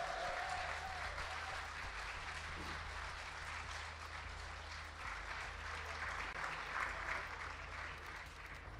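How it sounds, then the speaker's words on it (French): Audience at a French decathlon show finale applauds steadily, a sustained wash of clapping heard at moderate distance beneath a low background hum, with no speech over it. "vous pouvez l'applaudir."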